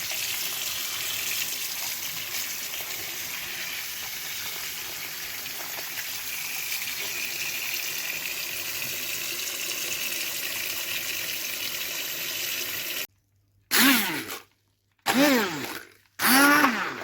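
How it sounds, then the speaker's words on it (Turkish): Tap water runs steadily over black mulberries in a kitchen for a long stretch, followed by three short louder bursts of splashing as the berries are rinsed and moved about. "dudumuzu bol suyla güzelce tertemiz yıkayalım"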